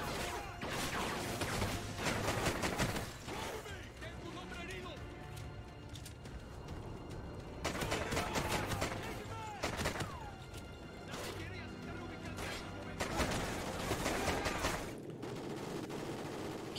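Bursts of gunfire from a Call of Duty: Ghosts match come in three loud waves of rapid shots over a steady battle bed, with someone talking throughout.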